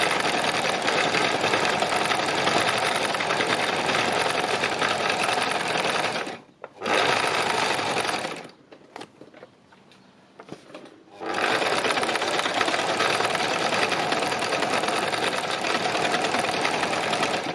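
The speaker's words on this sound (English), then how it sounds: "especially when you're stitching shiny fabric and you are stitching onto wadding" Loud, close whirr of a sewing machine stitching shiny fabric onto wadding, running steadily, stopping briefly twice, then resuming at full speed.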